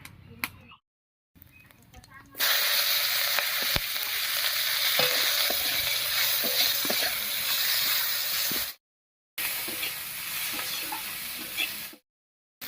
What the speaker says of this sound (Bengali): এবারে মাছ ভাজার এই তেলের মধ্যে ফোড়ন দেব আর ফোড়ন দেব গোটা জিরা আর পেঁয়াজ কুচি দিয়ে